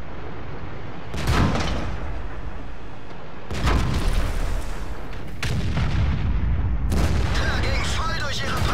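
A tank cannon fires in a video game, with heavy booming blasts about every two to three seconds, each followed by a rumbling tail. The shots are loud and close, and a voice speaks between them.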